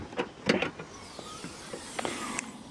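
A car's rear trunk is opened, with several sharp latch clicks and knocks, a rising mechanical whir, then a few more clicks, all close and fairly quiet.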